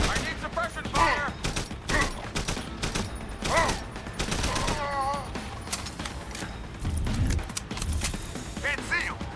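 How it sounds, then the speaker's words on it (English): Suppression gunfire in a firefight in the video game Deus Ex: Human Revolution, with dense, rapid volleys of shots and mechanical clatter as combatants shout over the shooting. "I need suppression fire!"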